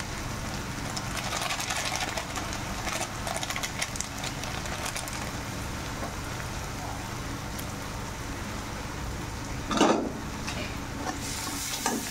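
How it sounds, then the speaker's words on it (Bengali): Dried fish curry with chili powder sizzles and fries in a pan while a utensil stirs and scrapes through it, a steady crackling hiss with louder scraping bursts near the end. "কিছু লঙ্কার গুঁড়ো দিয়ে ভালো করে কষিয়ে নেব।"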